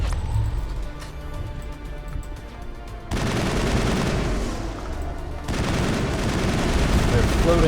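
Sustained suppressing gunfire in the 2007 video game Mass Effect, dense rattling bursts that surge loud partway through and keep going with only a short break, mixed with battle noise and a faint voice.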